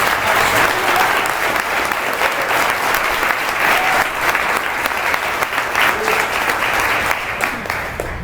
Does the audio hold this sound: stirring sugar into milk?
no